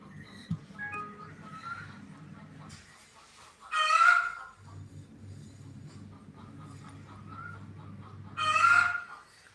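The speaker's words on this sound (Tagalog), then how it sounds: "Pasaway yung mga manok." Chickens clucking and a rooster crowing twice, loud and close, with low rumbling background noise between the calls.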